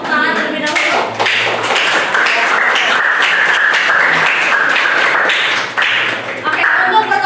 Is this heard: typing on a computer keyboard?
no